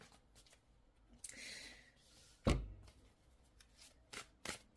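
Tarot cards handled and shuffled close by, soft sliding rustles with a sharp riffle-like slap near the middle and a few quick flicks toward the end, fairly quiet.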